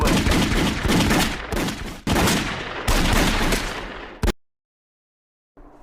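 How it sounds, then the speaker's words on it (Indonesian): A sniper and a pistol shooter fire on a group of attackers in a film scene, loud rapid bursts of gunfire in close, overlapping volleys, broken by brief pauses before cutting off into silence. "Marcos si penembak jitu, segera memberondong para pembunuh yang mengerumuni Leo dan Senator"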